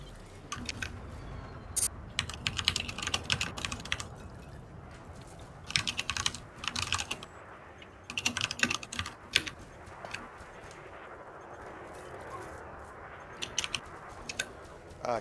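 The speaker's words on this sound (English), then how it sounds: "Your mic is picking up your keyboard, something fierce." A computer keyboard picked up by a microphone clacks in fast, uneven bursts of typing, with short pauses between runs. It is fairly faint and close, and there is no talk over it.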